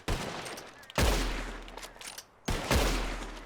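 Two sharp rifle shots fired at flying birds in Red Dead Redemption 2, about a second and a half apart. Each crack rolls off into a low, fading rumble, fairly faint against the outdoor ambience.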